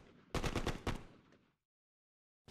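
Rifle shots fired at training targets in the video game Marranos en Guerra, a rapid burst of three or four loud, close cracks followed by a fading tail and silence, with one more sharp onset at the very end.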